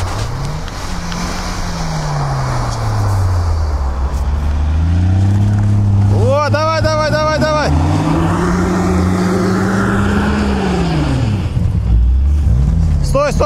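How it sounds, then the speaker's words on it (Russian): An off-road car's engine revs and surges loudly and close, with pitch rising and falling, while the front axle knocks. Excited voices talk over it throughout. "Ох, как передний мост бьет."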